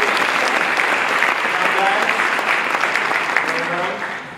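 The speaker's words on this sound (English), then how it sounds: "how about another round of applause for Max and Colby?" A crowd applauds Max and Colby at a Pella Tulip Queen celebration, producing a dense, sustained wash of clapping that holds steady for several seconds before fading slightly at the close.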